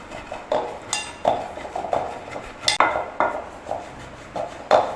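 A steel spoon clinks against dishes in a loud, close, repeated rhythm of about a dozen bright knocks spread over several seconds, with no voices.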